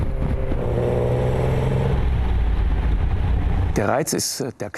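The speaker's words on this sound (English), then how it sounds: "He loves the sound of the engine and the views." A vintage BMW 319/1 engine hums and revs steadily from inside the car while driving, then wind buffets and flaps loudly near the end.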